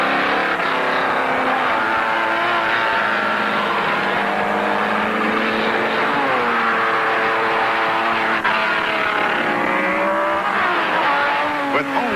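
Race cars at the 1962 Daytona Continental roar continuously, engines rising and falling in pitch as they rev and pass, loud and sustained throughout.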